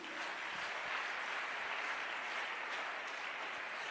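A church congregation applauds during a French-language sermon, a dense, steady wash of clapping that holds evenly from start to finish with no voices on top.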